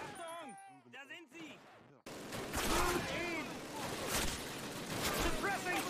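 Gunfire from the video game Call of Duty breaks out after a short stretch of talk and then keeps going as dense, loud, sustained shooting with bursts and impacts, with voices shouting over the battle.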